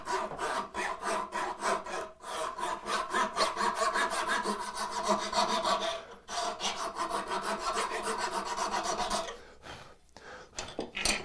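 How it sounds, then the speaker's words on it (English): File rasping across a wooden tenon of a mitered bridle joint, fast rhythmic back-and-forth strokes in long runs broken by brief pauses, loud and close with no talking. "I can either file this down and just make sure"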